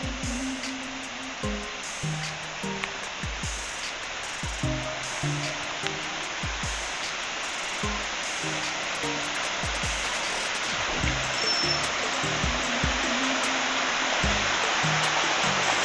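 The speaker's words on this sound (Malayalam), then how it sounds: "റിസോർട്ടിലെ മറ്റൊരു അട്രാക്ഷൻ എന്ന് പറയുന്നത് ഇതിൻ്റെ ഉള്ളിൽ കൂടെ പോകുന്ന കുറേ വെള്ള ചാലുകളാണ്. അതിൻ്റെ ഒച്ചയാണ് നിങ്ങളിപ്പോൾ കേട്ടുകൊണ്ടിരിക്കുന്നത്." Water streams running through a resort in Munnar, a continuous rushing, splashing flow heard close and steady throughout, with no one speaking.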